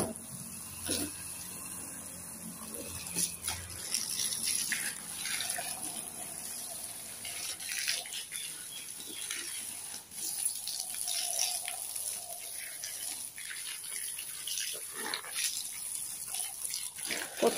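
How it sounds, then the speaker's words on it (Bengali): Water poured from a container onto potted chilli plants at home, a continuous splashing trickle with uneven gushes and drips running the whole time, close by, with a faint voice now and then. "আর এই যে একটু গাছগুলা পানি দিতেছি"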